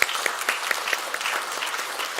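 A church congregation claps after a baptism and confirmation during a Sunday morning Palm Sunday service, with short, scattered but steady applause for a couple of seconds.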